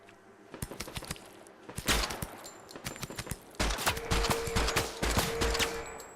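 Turret gunfire in the video game Project SilverFish, bursts of rapid automatic shots that get heavier and more continuous toward the end, with faint keyboard taps between bursts.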